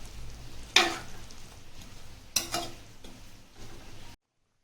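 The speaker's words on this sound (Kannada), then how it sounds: "ಈಗ ನಾವು 2 ಟೇಬಲ್ ಸ್ಪೂನ್ ಶುಂಠಿ ಬೆಳ್ಳುಳ್ಳಿ ಪೇಸ್ಟ್ ಹಾಕೊಳ್ಳೋಣ. ಇದನ್ನು ಚೆನ್ನಾಗಿ ಮಿಕ್ಸ್ ಮಾಡ್ಕೊಳ್ಳೋಣ." Spoon stirring ginger garlic paste into chicken masala in a pan, with a few scraping strokes and a soft sizzle underneath, faint and close, ending abruptly.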